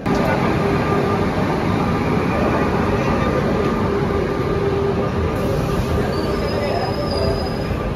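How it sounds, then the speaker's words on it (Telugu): A Puri-Tirupati Express train starts from a station with a constant heavy rumble, a thin high wheel squeal sliding in near the end, and no clear voices. "ట్రైన్ వచ్చింది, ట్రైన్ స్టార్ట్ అయింది."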